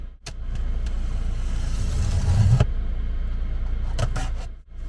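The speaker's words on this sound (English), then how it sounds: "Got the engine running" A car engine idles and runs steadily with a low rumble on a freezing day with the heater on, with a few sharp clicks and knocks over it and no talking.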